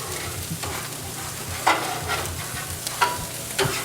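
Salmon and asparagus sizzle steadily in a hot pan, the close crackle broken by a few sharp clinks and scrapes as the food is moved around.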